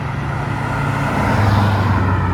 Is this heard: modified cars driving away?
yes